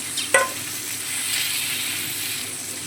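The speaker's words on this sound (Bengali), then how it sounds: "ফোড়নের সঙ্গে সবজি এবং ড্রাই ফ্রুটসটা ভালোভাবে নেড়ে চেড়ে মিশিয়ে নিলাম" Fried vegetables, cashews and raisins are stirred into hot oil with spice tempering. A sharp scrape of the spoon comes early, then a continuous close sizzle follows.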